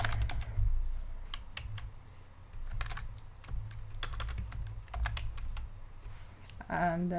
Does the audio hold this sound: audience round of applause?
no